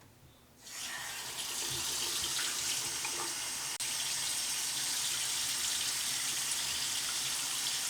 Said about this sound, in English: I'm going to add the water and show you what happens